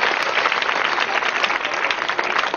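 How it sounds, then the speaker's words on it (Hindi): Crowd applause at a Maharaja Agrasen Jayanti prize-giving ceremony in Allahabad, honouring a ninth-grade student who placed second: dense, steady clapping from many hands, loud and continuous throughout with no talk over it. "आप लोग तालियां बजाकर"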